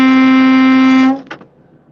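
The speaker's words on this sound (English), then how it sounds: "Horn honk, 3," A single steady horn honk lasts about a second, loud and close, with a clear, even pitch. It cuts off and is followed by a couple of faint knocks.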